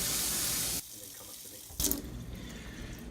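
Tap water from a sink faucet runs loudly while paint brushes are rinsed, pausing briefly, then resuming with a splashy burst and a steady stream.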